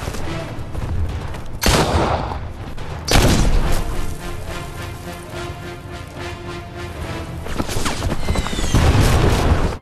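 Gunshots and heavy booms ring out in a Sherlock Holmes film action scene, with sharp loud blasts at intervals separated by rumbling, reverberant stretches of slow-motion battle noise.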